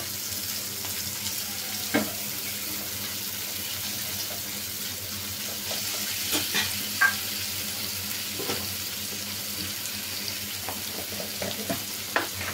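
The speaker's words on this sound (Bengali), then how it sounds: "এখন আমি পাঙ্গাস মাছের যে পেটের অংশটা, তেলের অংশটা আমি দিয়ে দিব।" Pangas fish belly pieces going into hot spiced oil, with a steady sizzle throughout, scattered scraping and stirring clicks, and a faint background drone near by, with no talk.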